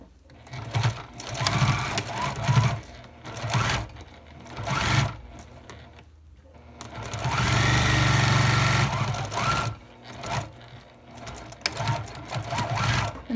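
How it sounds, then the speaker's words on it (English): Sewing machine stitching a plastic-lined makeup bag, its motor whirring in several short bursts and then one longer steady run, close and fairly loud, with a quiet voice between the bursts. "and sew on this side"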